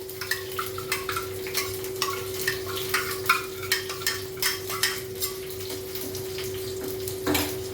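Ground coconut paste is stirred into white pumpkin kootu in a pan, giving a series of soft, rhythmic scraping and wet stirring strokes over a low steady hum, faint and close with no voices.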